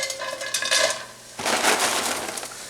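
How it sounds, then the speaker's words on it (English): Green peppers tumble into a skillet with a clatter of pan and utensil noise, two separate handfuls a moment apart, close and fairly loud, with no voice over it. "I'm going to add, 2 handfuls of the peppers"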